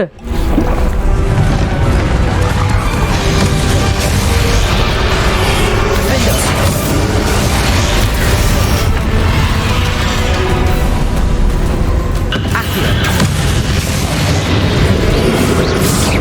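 Spell impacts and blasts from a Bombarda exploding spell during a battle with Ranrock in the video game Hogwarts Legacy, dense continuous booms over a loud game soundtrack.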